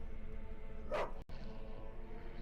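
Evil dogs bark in the Witcher Enhanced Edition video game, one burst of close barking rising over a steady ambient game background, then a brief dropout before the ambience resumes.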